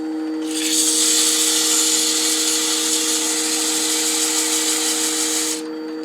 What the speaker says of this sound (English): So I'm just going to rub some of this in here